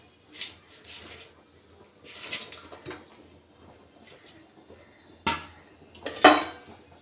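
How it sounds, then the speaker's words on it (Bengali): Pieces of fried, large Shillong fish go into simmering gravy in a cooking pot, with scattered metal clinks and scrapes of utensils against the pot and a sharp clatter near the end. "এবার দিয়ে দেবো আমি ভেজে রাখা মাছ।"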